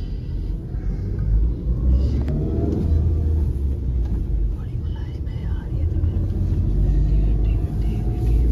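A Changan Karvaan Plus van on the move gives a steady, low road rumble with engine drone that runs unbroken throughout, with faint voices in the background.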